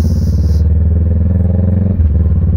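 A CF Moto CLC 450 motorcycle engine runs close and loud on a test ride, a steady low rumble with a brief shift or throttle change near the end.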